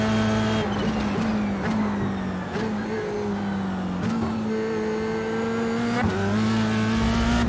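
An F3 race car engine drones in an iRacing sim at Mosport, a loud sustained engine note shifting with repeated gear changes and brief dips, steady throughout with no talk.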